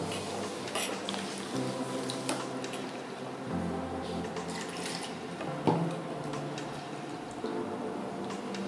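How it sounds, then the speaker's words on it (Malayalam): Water is poured into rice batter for neer dosa in a home kitchen, a soft continuous trickle and splash with faint ticking, heard quietly and alone for several seconds. "ഇനി 1 കപ്പും കൂടി ഞാൻ വെള്ളം ഒഴിക്കുകയാണ്"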